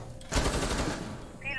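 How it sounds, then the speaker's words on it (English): A burst of rapid automatic gunfire rattles out in an esports video game match as the attacking side pre-fires while pushing into Cigar Lounge, loud and dense for about a second, followed by a brief electronic tone. "Some pre-fires coming out as the attack pushes into Cigar Lounge."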